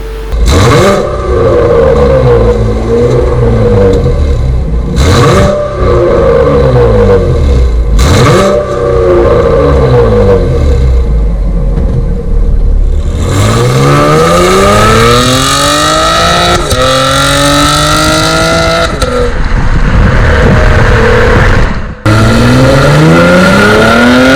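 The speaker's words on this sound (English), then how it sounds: "you can hear it's got a nice little burble to the exhaust" A 6th-generation Chevrolet Camaro's stock engine revs repeatedly and loudly up close, its deep exhaust burbling and rising in pitch between short pauses.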